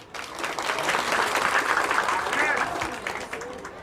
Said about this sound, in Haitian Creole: Merci et applaudissez pour nous